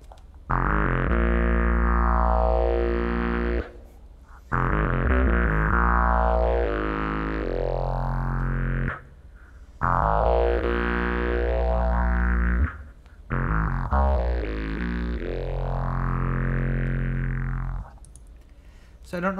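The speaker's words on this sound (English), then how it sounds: "a garden hose that's wrapped around a piece of pipe, and then on the top of it he's got a clarinet mouthpiece" A homemade horn of garden hose coiled around a length of pipe and fitted with a clarinet mouthpiece plays four long, loud, wavering tones with rich buzzy overtones, each separated by short pauses.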